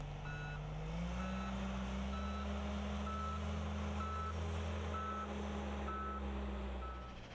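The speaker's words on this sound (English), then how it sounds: "Even though the reverse alarm is sounding, you still need to look behind you" Regular electronic reverse-alarm beeps pulse over the low rumble of an idling John Deere four-wheel-drive loader, steady and close.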